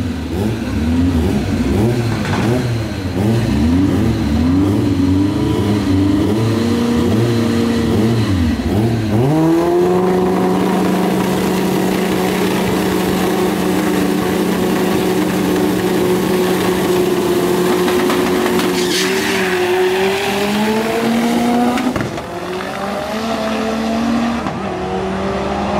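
A turbocharged VW Fusca and a Chevrolet Diplomata drag racing, loud engines revving hard with rising and falling pitch through gear changes, then a sustained high-rpm roar at close range.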